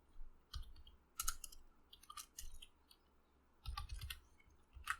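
Several uneven bursts of close, crisp clicking as a computer keyboard is typed on while writing Python code, separated by brief quiet gaps, with no talk.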